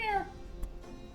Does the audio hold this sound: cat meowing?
yes